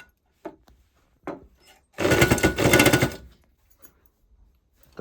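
A sewing machine runs two short bursts of rapid stitching along the border of a mat, loud and close, separated by a brief pause, with quiet handling sounds around it.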